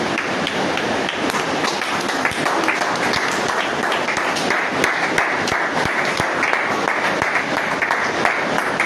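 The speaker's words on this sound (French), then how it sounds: "Applaudissons un peu pour le Seigneur Jésus" Sustained applause from a church congregation, dense and steady clapping filling the whole stretch with no pauses.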